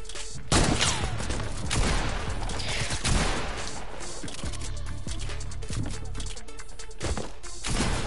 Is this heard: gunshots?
yes